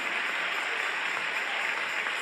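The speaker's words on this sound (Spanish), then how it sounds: "Dale un aplauso al Rey" A church congregation claps together during a Spanish-language worship service, a steady, dense wash of applause filling the room without a break.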